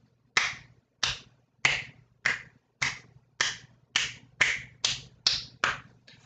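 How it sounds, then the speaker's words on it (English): About a dozen sharp, crisp slaps in a steady, slow rhythm, deliberate solo hand claps by one person, close to the listener with no voices. "That's me applauding."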